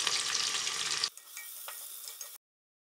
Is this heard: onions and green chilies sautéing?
yes